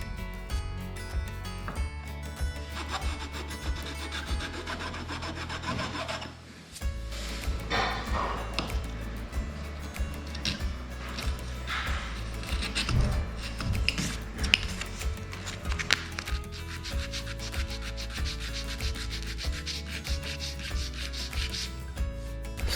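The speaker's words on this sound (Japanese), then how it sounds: "目地に入ったパテはメタテヤスリやサンドペーパーを使うときれいになると思います。" Wood-filler putty on a repaired sunken floor is smoothed with a flat file and sandpaper, giving close, repeated rasping and rubbing strokes that run on steadily with a brief pause partway through.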